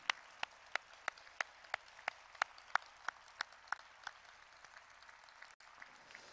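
At a large rally, sharp individual claps land in a quick, even rhythm, about three per second, sounding fairly distant and quiet over a low background hum before stopping near the end.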